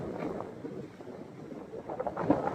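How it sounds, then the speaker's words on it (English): Wind buffets the microphone in a low, rumbling rush, gusting unevenly and rising slightly toward the end. "you can probably hear the wind"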